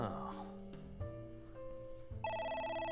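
A phone rings in the AI: The Somnium Files video game, a repeating electronic ringtone that sits over game music and stays fairly loud throughout, with no talking.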